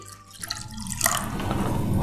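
Water is poured into a pan of tomato sauce for meatballs, a short liquid splash and trickle that swells into a steady pouring wash, heard up close and alone.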